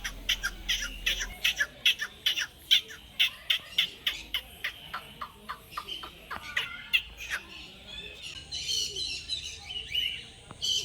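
Many birds call and squawk at Nandan Van Bird Sanctuary in Chhattisgarh, India, with rapid repeated chirps and harsher cries overlapping, fairly close and lively.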